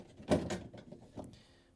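The door of a Samsung refrigerator is lifted up off its hinge brackets, giving a muffled clunk and scrape followed by a lighter knock, close by and with no speech.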